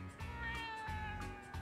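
Cat meowing in the Yakuza video game, a few short repeated meows, fairly quiet, with soft background game tones and no speech over them.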